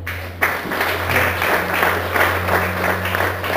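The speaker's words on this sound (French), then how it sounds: "Est-ce qu'on peut applaudir le Seigneur?" A worship congregation applauds the Lord during a church service, a broad sustained patter of many hands clapping together over a low steady hum.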